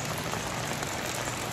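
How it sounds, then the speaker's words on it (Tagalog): Rain falls outside on a stormy day in the Philippines. The patter is steady, dense and hissing, continuous and fairly close, with no voices over it. "Maulan-ulan na araw."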